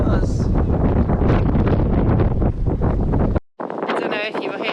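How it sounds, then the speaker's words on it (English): Strong wind gusting at an anchorage, roaring hard across the microphone in loud continuous buffeting that cuts out briefly before returning, with a voice faintly under it. "The wind is blowing really hard."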